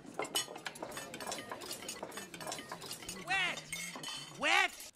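Silverware clinks and clatters among dishes at a wedding reception table, bright scattered metallic ticks running throughout, while people talk and a voice rises over the clatter.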